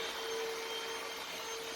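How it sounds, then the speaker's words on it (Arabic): A household vacuum cleaner runs steadily while cleaning the house, a continuous close whine and airy roar with no talking. "ندوز على البيس بلاسبيغاتور ودوزت على الدار كامله"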